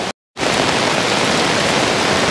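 Heavy downpour in the hills at Melukavu Mechal in Kerala, beside a waterfall, makes a dense, steady roar of falling water. It is loud and continuous after a brief dropout at the start, with no voices.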